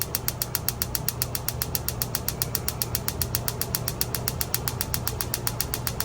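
Rapid, steady clicking from an RV oven's gas pilot igniter in a 2026 Forest River Rockwood Ultra Lite 2608BS travel trailer, sharp evenly spaced ticks repeating for several seconds over a low background hum, close by with no voices.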